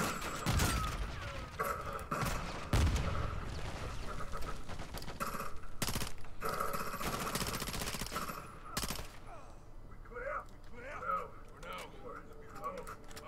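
Gunfire from enemy soldiers in the Call of Duty: Modern Warfare II campaign, a dense, loud fusillade of automatic bursts and sharp shots rattling nearly nonstop for most of the stretch before thinning out, with a voice talking over it.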